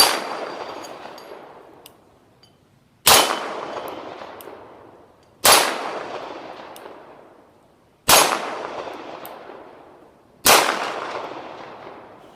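Five evenly spaced pistol shots from a Taurus PT92 fired at 6-inch steel plates 14 yards away on a range, each a loud close crack with a ringing metallic decay, no voices.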